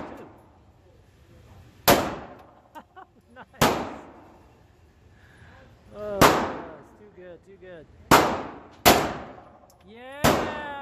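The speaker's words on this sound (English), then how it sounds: "Shooting holes." Gunshots from target shooting ring out one at a time, six or so sharp loud cracks spaced a second or two apart with ringing echoes, and people talk quietly between shots.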